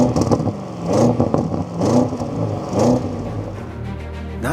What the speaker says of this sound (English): Sound-wise, despite the annoying soft limiter, the RS6 Performance sounds great.